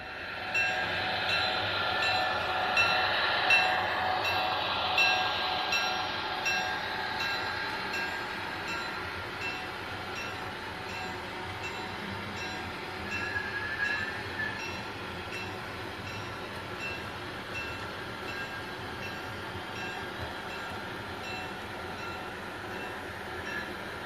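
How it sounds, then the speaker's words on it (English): A mail train passes by with a sustained rolling rumble and rail clatter that swells early and slowly fades over about twenty seconds, heard alone without voices. "It was the mail train."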